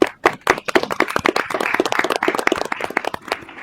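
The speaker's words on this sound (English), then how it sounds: "Give him a round of applause." At a school board of education meeting, a modest audience claps for a re-sworn trustee, with distinct individual hand claps in a quick, uneven patter that thins out toward the end.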